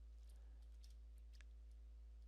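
Keys on an ASUS ROG Flow Z13 laptop keyboard click a few times in quick, faint, scattered taps over a low steady hum.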